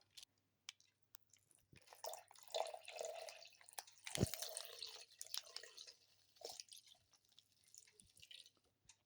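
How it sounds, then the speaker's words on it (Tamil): Milk is poured for a bourbon biscuit milkshake, giving faint, close liquid splashing and dripping sounds in irregular bursts in a quiet kitchen. "இப்போ நம்ம பால் ஊற்றிக்கலாம்."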